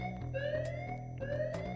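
An alarm sounds during a heist in the video game Notoriety, a steady, looping electronic wail with repeating rising tones, heard alone at moderate volume.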